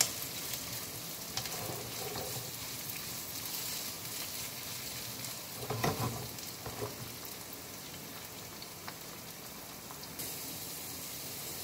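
Chopped red and green peppers sizzle in a pan, a soft, steady hiss like light rain with occasional louder crackles and faint stirring, quiet throughout.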